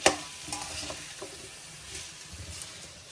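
Noodles boiling in a pot give a continuous close bubbling hiss, with a sharp clatter at the start and soft stirring knocks throughout.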